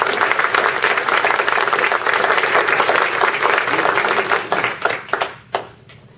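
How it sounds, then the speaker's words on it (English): Sustained applause from a crowd at a Kiwanis Club induction of directors, dense and loud, with scattered claps trailing off near the end. "Applause."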